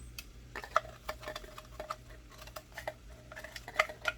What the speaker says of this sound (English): You get something to scrape that out with.